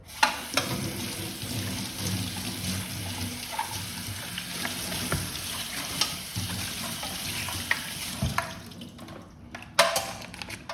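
Plastic and foam cycling helmet is washed under cold running water with a bit of soap, giving a steady splashing hiss close by with small knocks and scrubbing sounds throughout.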